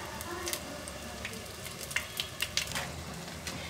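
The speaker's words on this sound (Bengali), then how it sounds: "এইগুলোকে এপিট ওপিট এরকমভাবে তুলে ভাজতে হবে, আর গ্যাসটা কিন্তু মিডিয়াম টু হাই হিটেই রাখবেন" Battered bakful flower fritters frying in hot oil over medium-high gas, a soft continuous sizzle with scattered sharp crackles and spatters, fairly quiet and close, with no voices.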